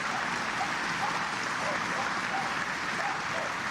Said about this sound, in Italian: Al suo arrivo il feretro è accolto da un applauso